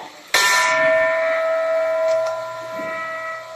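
A school bell rings once with a sharp bright strike, then a sustained metallic tone that slowly decays, loud and close.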